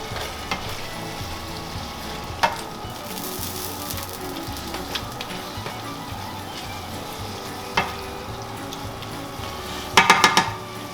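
Pasta and sauce heating in a pan produce a steady, close sizzle, broken by occasional knocks of a utensil and a quick cluster of metallic clinks near the end.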